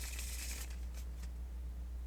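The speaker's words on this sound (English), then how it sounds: "I'm constantly shuffling my cards." Playing cards are shuffled by splitting them into two piles, riffling them together and bridging them. Close, crisp riffle bursts are heard at first, followed by a few quieter flutters.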